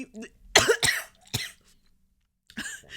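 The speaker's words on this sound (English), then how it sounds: "I'm not coughing on a kernel." Several sharp coughs in quick bursts, close and fairly loud, with brief pauses between them and a final cough after a short silence.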